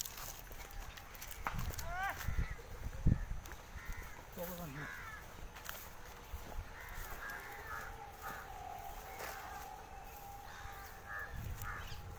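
Crows caw in short repeated bursts beside the polluted Mula river, some near and some farther off, with faint voices talking and scattered outdoor noise in between.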